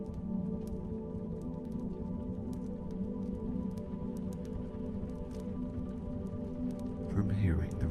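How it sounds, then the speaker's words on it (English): Rain taps steadily against a window in a fast, soft patter, with faint crackling from an open fire beneath and a low murmur throughout. "From hearing the raindrops tap at your window"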